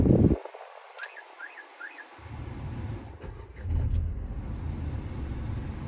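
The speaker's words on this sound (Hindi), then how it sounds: "पहले मैं गाड़ी को जरा स्टार्ट कर दूं" A Nissan Magnite starts with a short burst, then a few soft electronic chimes sound. The engine rumble swells after a few seconds and settles into a steady, moderate idle, with no speech.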